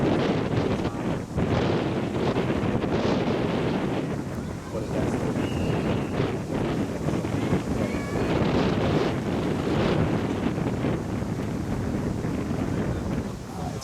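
Strong wind buffets the microphone in a constant roaring rush, with gusts swelling and easing, and faint voices beneath.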